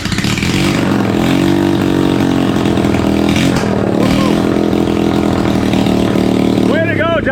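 Honda ATC 125 three-wheeler engine fitted with a prototype piston, running loud and steady throughout with a rough, buzzing drone, while voices talk over it near the end.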